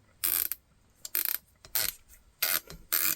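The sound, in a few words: Hi-Lux PR5 riflescope turret clicks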